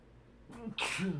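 One loud, close sneeze, a sharp breath in followed by a forceful burst, against quiet background noise.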